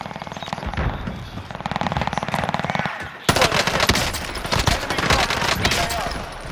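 Sustained gunfire in a battle royale shooter game: rapid automatic bursts crackle continuously, pausing briefly midway before resuming louder and denser, close and harsh.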